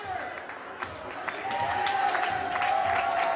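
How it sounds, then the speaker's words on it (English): A high school boys' basketball crowd applauds in a standing ovation, with clapping and cheering swelling louder partway through and holding steady, while a commentator talks over it. "crowd giving their team a standing ovation"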